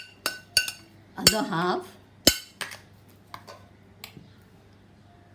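Chicken seekh kebab ingredients being mixed in a bowl, with scattered clinks and taps of a utensil against the dish, a short stretch of talk in the middle and quieter knocks toward the end.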